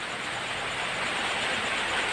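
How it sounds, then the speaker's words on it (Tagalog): Heavy rain pours down in a steady, dense hiss that fills the whole stretch evenly, with no talking over it. "Lakas talaga yung ulan."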